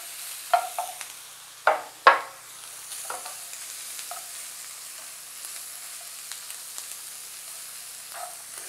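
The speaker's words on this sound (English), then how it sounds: "So into the pan are these softened tortillas" Softened tortillas and jalapeno slices sizzle in a pan with a steady faint hiss, broken by a few sharp scraping stirs early on.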